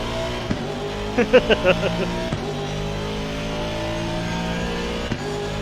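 Race cars rev and accelerate off the starting grid in a racing video game, a steady layered engine drone with a short burst of rising revs near the start, under faint background noise.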